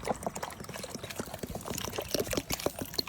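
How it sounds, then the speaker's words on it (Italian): Water poured abundantly over pitted fruit in a home kitchen, a continuous splashing and trickling pour with small clinks, close and alone. "Quindi si aggiunge l'acqua."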